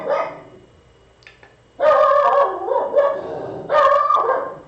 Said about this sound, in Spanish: Perdón por el perro que está ladrando.